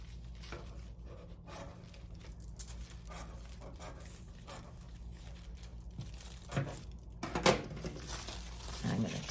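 Paper sewing pattern pieces for a McCall's bow top are cut and handled, giving faint, close crinkles and light snips that grow a little busier toward the end.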